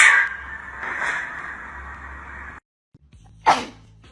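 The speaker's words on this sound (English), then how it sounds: "That's what a grown woman sneeze sounds like." A grown woman sneezes, one short sharp burst near the end after a brief silence, preceded by a noisy stretch of voice and background sound.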